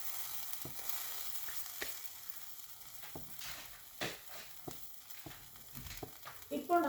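Bread spread with mint chutney sizzles softly in a pan over a low simmer flame, a faint steady frying hiss punctuated by small clicks and scrapes, with nobody speaking.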